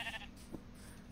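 A sheep bleats faintly in a video game world, a brief distant call over a steady background of game ambience and music.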